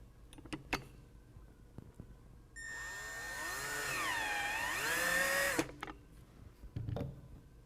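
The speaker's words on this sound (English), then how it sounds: "we're going to take some of our self-tapping screws and put 3 screws through here" A power drill drives self-tapping screws into a soft top bracket on a 2020 Jeep Gladiator, whining steadily for about three seconds and rising slightly in pitch, with scattered handling knocks before and after.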